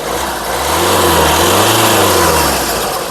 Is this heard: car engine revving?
yes